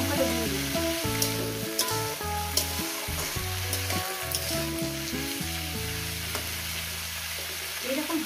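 Green chili sizzling in a frying pan with egg, a constant crackling fry under loud background music.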